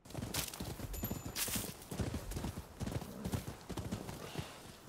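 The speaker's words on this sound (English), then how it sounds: "We got my horse." Horse hooves clip-clopping in a steady rapid gait with a brief whinny, from the PS5 video game Rise of the Ronin, fairly loud and continuous without speech.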